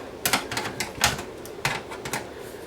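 Side cutters snip through the metal tabs on a Pioneer SX240 receiver chassis, giving a quick run of sharp, close clicks in an uneven rhythm.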